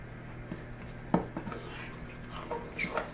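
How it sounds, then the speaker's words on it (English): Spoon scraping and clinking in a bowl while brown sugar and cinnamon are stirred into a crumb topping; soft, irregular taps and scrapes, quiet and close, with no talk. "I'm just going to stir these in here together until it's something that looks kind of like wet sand"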